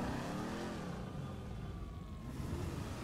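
Stafford car engine in GTA 5 revving steadily, a continuous loud motor drone with rising and falling pitch, no talking.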